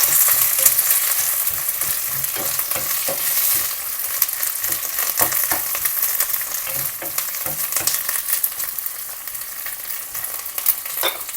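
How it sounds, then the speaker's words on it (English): Chopped and sliced onions, peppercorns, garlic and curry leaves fry in a pan with a loud, continuous sizzle, broken by repeated scraping stirs and sharp crackling pops. "chopped onions, sliced onions, the peppercorns, the garlic, and your curry leaves. So we'll fry this for a little while."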